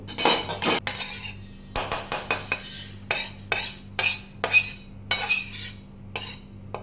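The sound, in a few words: scooping roasted poppy seeds out of a pan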